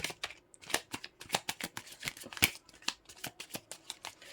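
Tarot cards are shuffled close up in a quick series of crisp riffling snaps with short gaps between them. No one speaks.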